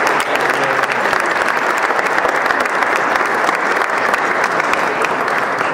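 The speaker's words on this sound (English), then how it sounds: "please give them a round of applause" Loud, dense applause from an embassy audience honoring Giro d'Italia Washington event organizers, sustained steadily throughout with no pauses.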